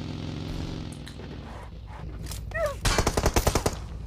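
Video game gunfire in a team shooter match, rapid bursts of automatic shots that start faintly and then grow loud and dense near the end, with a few sharper ricochet-like whines among them.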